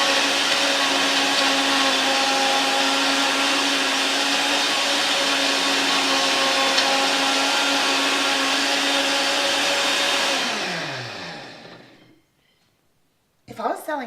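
A kitchen blender runs at a steady, loud, whining roar for about ten seconds, then winds down in pitch and stops, followed by a brief silence and a short clunk.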